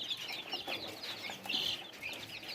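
Chickens recovering from illness cluck and murmur on an aquaponics farm, a soft continuous chorus of overlapping calls from several birds at moderate distance, with no talking.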